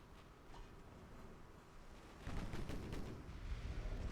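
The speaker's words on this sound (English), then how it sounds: "go broadside, get all 12 guns firing again at it" Battleship broadside gunfire in the Ultimate Admiral: Dreadnoughts naval game: a faint bed of distant rumbling booms that swells into a denser run of heavier thuds and cracks partway through.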